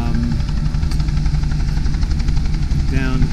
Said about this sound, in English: They don't even turn their helicopters off